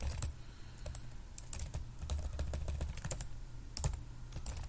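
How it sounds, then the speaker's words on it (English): Rapid typing on a computer keyboard at a desk: irregular bursts of close, crisp key clicks, quiet and continuous with no one speaking. "I just don't like typing this much."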